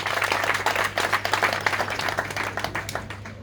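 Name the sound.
audience applauding at political rally in Gabon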